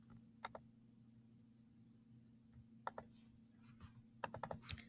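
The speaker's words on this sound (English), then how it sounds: "So maybe I'll type both of those things." Sparse, quiet computer keyboard taps in short bursts over a low steady hum, becoming quicker and denser near the end.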